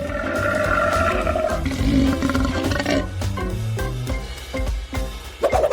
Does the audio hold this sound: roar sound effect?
yes